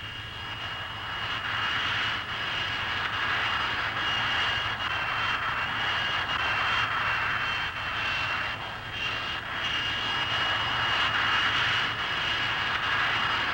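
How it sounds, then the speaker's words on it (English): A VTOL jet aircraft hovers at the 1967 Paris Air Show, its engine roaring steadily from a distance for the whole stretch, with no voices over it. "It can immediately convert from hovering to wing-borne flight for supersonic attack."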